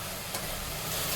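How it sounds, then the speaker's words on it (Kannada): Vegetables and tomato frying in a pan for veg pulao, a brief steady sizzle with a faint scrape, close and continuous. "1-2 ನಿಮಿಷ ಫ್ರೈ ಮಾಡ್ಕೊಳ್ಳೋಣ."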